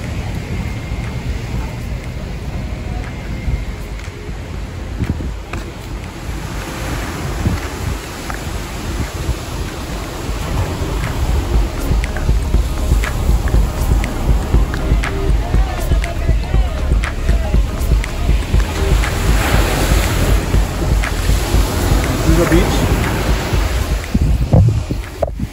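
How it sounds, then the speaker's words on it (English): Waves break and wash continuously along Auroville beach, a loud, broad roar of surf mixed with wind that swells stronger midway, with occasional voices underneath. "Auroville beach"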